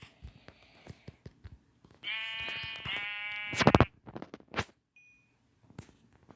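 A single exploding sheep in a video game bleats in a long, wavering call over scattered clicks and taps, followed by a few soft thuds.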